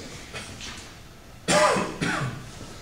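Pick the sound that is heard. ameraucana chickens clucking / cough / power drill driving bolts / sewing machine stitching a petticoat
cough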